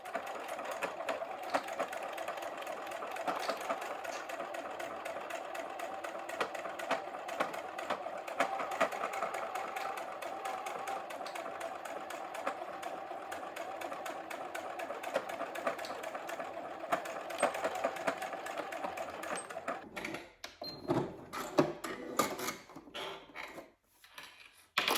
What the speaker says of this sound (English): we've top stitched the back side as well